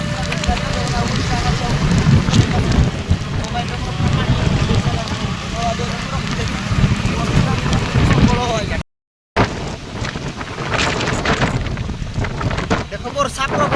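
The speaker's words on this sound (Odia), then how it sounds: "ଦେଖ ବର୍ଷା ପ୍ରବଳ" Heavy rain and strong wind at Khuludi waterfall, a loud, steady roar with wind buffeting the microphone, a brief cut partway through, and people talking over it.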